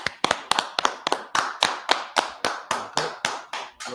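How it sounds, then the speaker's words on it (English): Steady applause from a class of people, sharp claps landing in a fast even rhythm about four per second, loud and close with no talk over it. "Clap it up for the class."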